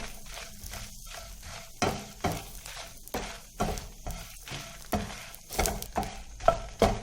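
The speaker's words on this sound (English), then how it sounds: "We will add all these ingredients and fry it until the chilies will get crispy." Chilies, ginger and tamarind fry in a pan for garlic chutney, with rhythmic spatula strokes scraping the pan over a soft, continuous sizzle, close and evenly repeated.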